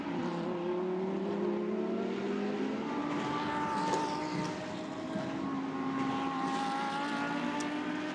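A Lamborghini Super Trofeo race car engine roars loud and sustained at Misano, its pitch climbing and shifting through gear changes as it drives past, with no talk over it.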